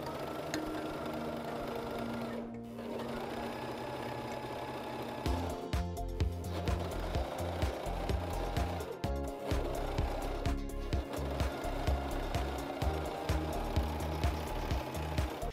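A Gritzner 788 overlock sewing machine stitches fabric with its knife engaged, sounding as rapid mechanical chattering bursts that start and stop several times. It is close and fairly quiet, with brief pauses between runs.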